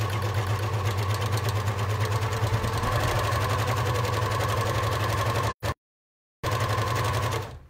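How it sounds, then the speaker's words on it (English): An overlocker stitches a rolled lettuce hem along bias-cut fabric, running as a loud, steady, rapid mechanical whir for over five seconds, cutting out briefly, then starting up again. "if we put that into the overlocker, we should get a nice kind of wiggly lettuce edge."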